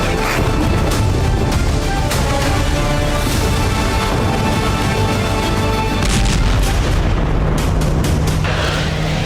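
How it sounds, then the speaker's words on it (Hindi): A loud, sustained roar of blast and rumbling from a Russian drone crashing onto a city street fills the scene, dense and distorted throughout, with crackling bursts layered on top and no voices. "शहर की एक सड़क पर रूस का ड्रोन गिरने से जबरदस्त विस्फोट हुआ"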